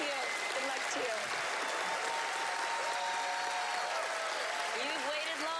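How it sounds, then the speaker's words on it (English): Studio audience at a televised magic show applauding, a dense, steady wash of clapping lasting the full clip with faint cheering mixed in, fairly loud and continuous. "Give him another warm round of applause."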